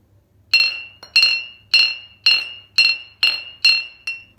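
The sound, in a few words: stone mortar (kharal) being struck, clinking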